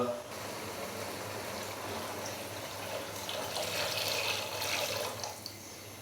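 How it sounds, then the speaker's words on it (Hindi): Water pours steadily into a cooking pot holding 1 kg of super basmati rice for degi chana pulao, a continuous splashing stream lasting several seconds, moderately loud and close. "तो अभी मैं इसके अंदर पानी डालूंगा।"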